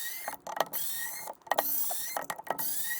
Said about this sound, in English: Take out old screws, put in new screws,